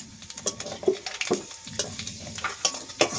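Panch phoron spices and a broken dried red chilli crackle in hot oil, with sharp spitting pops and scraping stirs of a spoon against the pan, close and uneven in rhythm.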